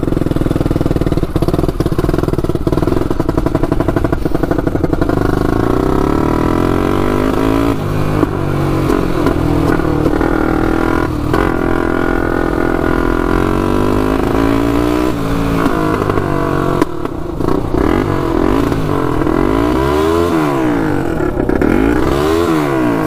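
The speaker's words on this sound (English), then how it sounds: "See, it revs out like that." A turbocharged Honda 400ex ATV engine revs hard and loud for the whole stretch, its pitch climbing and falling in repeated sweeps with a rough, sputtering edge and no talk over it.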